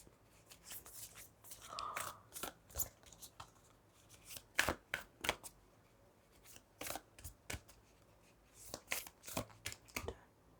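Tarot cards shuffled by hand during a reading: repeated soft riffling and slapping bursts in uneven clusters, close and moderately loud, with no speech over them.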